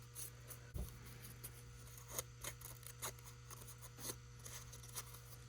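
Scissors snip through a small piece of miniature artificial grass for a tiny café kit, giving soft, close, rasping cuts that repeat at intervals over a faint steady hum, with no voices.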